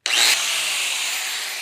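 An angle grinder cutting down a metal flathead motor mount for a 1931 Ford Model A roadster build, one continuous loud, harsh whine that starts abruptly and holds steady for over a second, close up with no talk.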